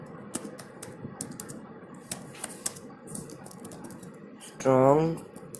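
Typing on a computer keyboard: scattered sharp key clicks in an irregular rhythm, fairly close, with a short voice-like tonal burst near the end.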